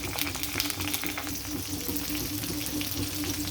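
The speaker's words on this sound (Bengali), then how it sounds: "আদা রসুন বাটা দিয়ে দেবো।" Ginger-garlic paste frying in a pan with tomato and browned onions makes a dense, constant close-up sizzle with faint stirring and no speech.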